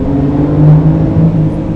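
A BMW F82 M4 on the move, its engine and exhaust giving a steady low droning hum with slight swells, heard from inside the car with no talk.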